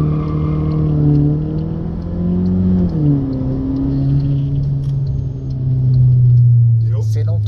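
A Stage 2 tuned Volkswagen Jetta TSI engine roars as it accelerates hard from 0 to 100, the pitch climbing and dropping through gear changes, loud and close throughout.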